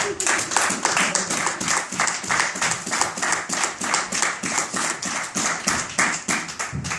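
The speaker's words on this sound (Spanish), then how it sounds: "Denle un aplauso al Señor." Audience applause at a Bible teaching gathering: dense, sustained clapping from many hands, fairly steady in rhythm and close, filling the whole stretch without letting up.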